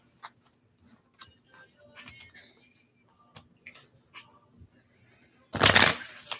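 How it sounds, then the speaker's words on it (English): A deck of tarot cards is handled close up: soft irregular ticks and taps of cards being worked through, then a short burst of riffling as the deck is shuffled near the end, with no talking. "What I'm gonna do is shuffle, and I'm gonna split the deck."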